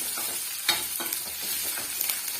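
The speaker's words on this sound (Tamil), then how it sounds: "சேர்த்துட்டு மீடியமான ஃப்ளேம்லேயே இது நல்லா வந்து வதக்கி விட்டுடலாம்" Sambar chillies sautéing in oil over a medium flame for brinjal dal sambar: a steady gentle sizzle broken by a few quick spatula taps and stirs, with no talking.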